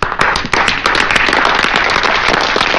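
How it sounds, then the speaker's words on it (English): A crowd bursts into a loud, close round of applause for two gentlemen, with dense overlapping claps and sharp individual smacks that keep up steadily without a break. "I believe these gentlemen deserve a round of applause."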